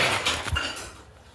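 Metal dishes and cutlery are scrubbed and knocked together at close range, a short burst of rough scraping with a few clanks that fades within about a second.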